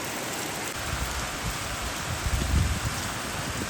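Steady, dense rain pours down in the mountains in May with a broad hiss and soft patter, louder in gusts of wind, then cuts off abruptly at the end.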